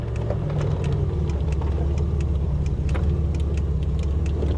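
A 1987 Buick Grand National engine idles steadily after a tune-up with new plugs, wires and silicone vacuum lines, giving a continuous low rumble with a faint rhythmic ticking, close by, with no talking.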